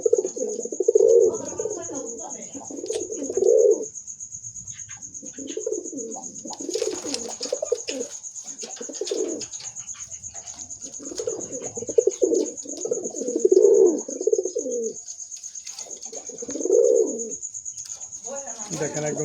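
A male pigeon, one of a lively pair, coos repeatedly in rhythmic bursts at close range, the low throaty calls spaced a second or two apart, with someone talking intermittently and a steady high electrical whine behind.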